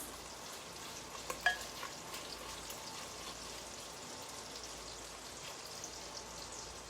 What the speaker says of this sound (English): we've got the sausage remnants, and we've also got some bacon going on in here